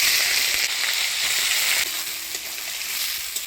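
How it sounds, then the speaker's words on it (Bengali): Dried fish frying in hot oil, a dense, bright, continuous sizzle heard up close with faint crackles and no voices. "তো প্রথমে মাছটা ভাজে নেব। তেল গরম হয়ে গেছে,"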